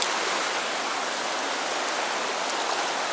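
Creek water flows in a constant, hissing rush, close by and unbroken, with no other sounds standing out.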